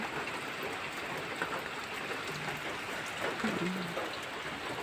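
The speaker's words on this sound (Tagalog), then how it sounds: "Uulan talaga ngayon." Steady rain falling outdoors in a rural province, a continuous soft hiss of drops on surfaces with no breaks, heard from nearby at moderate volume.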